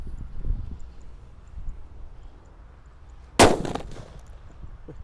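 A "colorful sweater" firecracker goes off with a single loud, close bang and a short crackling tail, after several seconds of quiet outdoor background.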